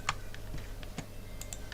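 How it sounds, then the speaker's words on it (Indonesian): Computer keyboard keys pressed while working in CorelDraw graphic design software, a few sparse, sharp clicks spaced irregularly over a low steady hum. "tekan Ctrl di keyboard."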